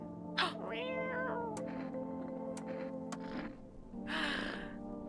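A pet cat named Kiki in the game No, I'm not a Human meows several times in short, close, pitched calls with breathy gaps between, heard alone without talk.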